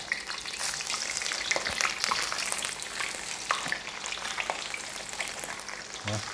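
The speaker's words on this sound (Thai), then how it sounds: "ปลาจวดที่ตกได้มาหกเจ็ดตัว เอามาทอดก่อนครับ" Croaker fish caught from the shore frying in hot oil, a dense continuous crackle and sizzle with scattered pops and stirring sounds, heard alone at close range.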